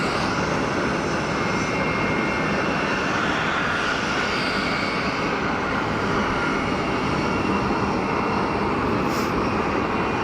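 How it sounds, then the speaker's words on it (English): Steady, loud roar of an EasyJet airliner's jet engines as it rolls for takeoff at Geneva Airport, a dense unbroken rumble holding for ten seconds with no voices. "EasyJet to Luton is rolling."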